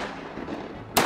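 A shotgun blast rings out during a waterfowl hunt, one sharp loud report near the end following a stretch of quiet outdoor ambience.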